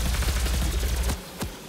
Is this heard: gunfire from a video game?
yes